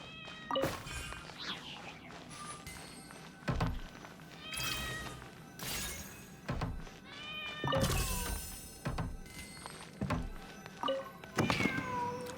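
A cat in the video game Genshin Impact meows repeatedly in high, drawn-out cries, mixed with sharp game clicks and thunks at a steady moderate level.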